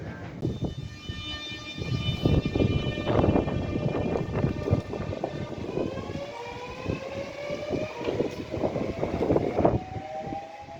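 A train rumbles toward Barnhurst station in London, with a steady rolling roar, clattering wheel knocks and a sustained high tonal whine from the running gear, heard from on board.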